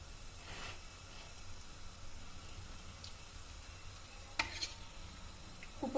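Hot water simmering in a pot of mushroom pulav gives a faint, steady bubbling hiss throughout, with a couple of soft clinks near the end and no talking.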